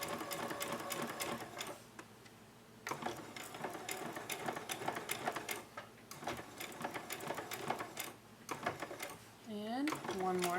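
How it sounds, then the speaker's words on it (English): A sewing machine back-stitching a seam on a homemade protective face mask, running in short repeated bursts of stitching with brief pauses, near and fairly loud, while a person talks over it. "And one more set of back stitching"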